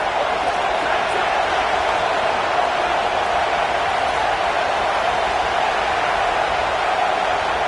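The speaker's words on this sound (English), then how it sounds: "Now this home crowd making life difficult." A home crowd in a Falcons football video game roars as a constant, dense wall of noise, loud and unbroken throughout.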